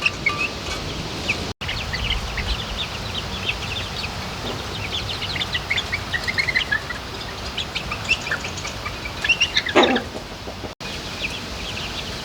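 A flock of turkeys with their poults, some of them bronze-coloured, calling and clucking around the yard in overlapping chirps and cackles, close and steady throughout.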